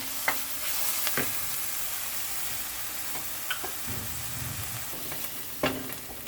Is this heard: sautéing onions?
yes